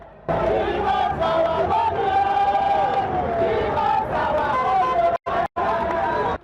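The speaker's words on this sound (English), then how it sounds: "Chanting songs of solidarity" Protesting crowd chanting together outside the Ministry of Finance in Abuja during a teachers' strike, a loud, sustained mass of voices with melodic rising lines, broken by two brief drops near the end.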